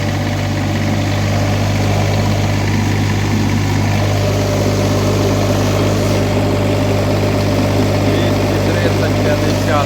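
A GAB-4 diesel generator runs loudly and steadily up close, its low engine drone and hum continuous throughout, with faint voices under the noise.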